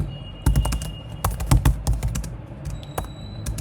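Fast, steady typing on a computer keyboard while writing code, with close, crisp key clicks and occasional heavier strokes in an irregular run.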